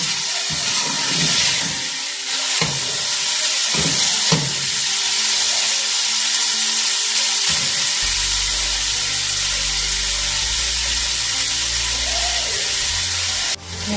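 Masala spices with green chillies sizzle and fry in a pan for a karela daal chana dish, a loud constant hiss broken by scraping stirs, with a deeper bubbling cook sound coming in later.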